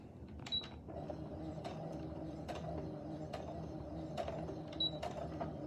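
A sewing machine stitching a quarter-inch seam on a cloth face mask, quiet mechanical clicking and creaking in irregular bursts, fairly faint and close, with no talk.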